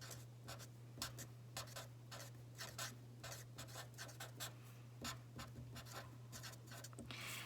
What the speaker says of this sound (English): I'm gonna write that down here